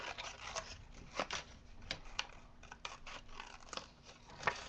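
Scissors cut out a batch of small paper tags, with repeated close, crisp snips and soft paper rustling at an uneven pace, quiet throughout.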